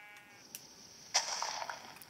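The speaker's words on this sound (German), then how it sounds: "Ne, ist noch ein Schaf." A sheep in the video game Minecraft gives a single short bleat, moderately close, after a few faint clicks against a quiet background.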